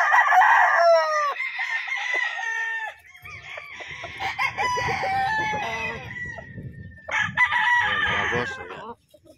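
Tethered bull stag roosters crow loudly and repeatedly nearby, overlapping calls with some clucking between crows.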